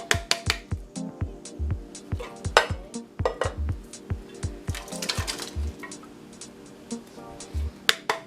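Beans tip into a cooking pot for Jamaican rice and peas, giving a run of quick hard clinks and knocks against the metal, then scattered rattles and clatter, close and fairly quiet.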